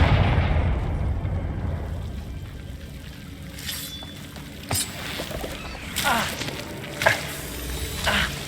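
Confringo, a fiery blast spell cast in the Hogwarts Legacy video game, goes off as a handful of sharp, crackling bursts spaced a second or so apart over a low ambient rumble.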